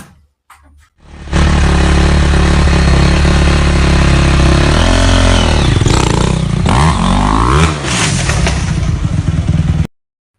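A motorcycle engine revs loud and close in a played clip, holding a steady roar for several seconds before surging through rising and falling pitch sweeps, then cutting off abruptly.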